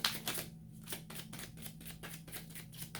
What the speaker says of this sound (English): These cards are slippery, but they're easy to shuffle, which is nice.